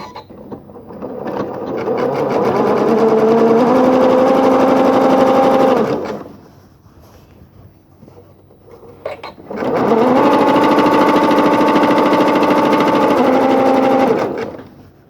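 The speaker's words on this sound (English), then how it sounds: "now I've just buttered them up together and I'll zigzag them" A sewing machine zigzag-stitches quilt-as-you-go blocks together in two loud, steady bursts of rapid whirring, each lasting several seconds, separated by a short quiet pause; no one speaks.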